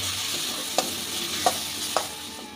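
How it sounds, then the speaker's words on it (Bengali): Grated coconut sautés in a hot pan with a continuous soft sizzle, broken by three sharp scrapes of a spatula against the pan at roughly even intervals, close by and without talk. "দিয়ে নারকেলের সাথেও ভালো করে কষিয়ে নেব।"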